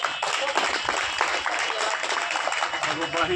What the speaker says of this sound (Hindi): जोरदार तालियों से आप अपनी बहन का स्वागत करें।